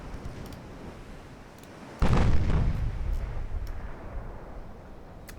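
Naval guns fire high explosive shells in a game set in an Imperial Austrian campaign: one loud, close boom bursts out and rumbles away over steady low background noise, with faint distant thuds before it.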